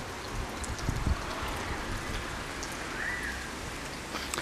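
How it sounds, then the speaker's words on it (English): Light rain sprinkles steadily outdoors over a lawn, a soft continuous patter of drops with faint scattered ticks and no voices. "So we've got a slight sprinkle."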